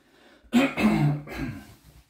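Close, harsh bursts of coughing and throat clearing set off by fumes from Fabulosa all-purpose cleaner, a few rough hacks in quick succession.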